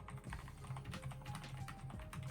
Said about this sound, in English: The keys are spaced really nicely, which certainly helps with precision when typing, especially with the ergonomic high-low keys.